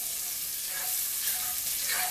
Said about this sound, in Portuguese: junto com o alho, nós vamos colocar o colorífico de urucum, que é o colorau. Vamos lá. E vamos fritá-los junto.